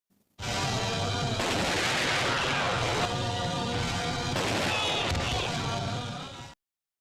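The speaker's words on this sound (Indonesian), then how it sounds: "Akhirnya mereka berdua pun tewas ditembak Arjun." Gunfire in a dramatic scene from an Indian action film starring Mahesh Babu, a dense, loud wall of shots and crashing impacts sustained for about six seconds over a thick soundtrack.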